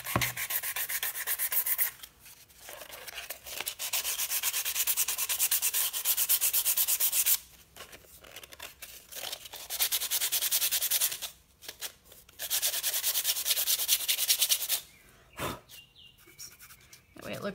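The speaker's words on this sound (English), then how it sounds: "And I'm just going to sand. Sand the edges a little bit." Edges of a paper craft piece are sanded by hand in long, close, scratchy rasping strokes, stopping and restarting several times with short quiet gaps between bursts.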